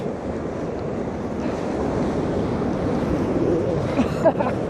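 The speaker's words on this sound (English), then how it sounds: "So you just got these spontaneous waves just crashing up here." Large storm waves from Storm Darragh crash on the shore at Skegness, a loud, continuous surf roar mixed with heavy wind buffeting the microphone. A few brief sounds near the end rise above it.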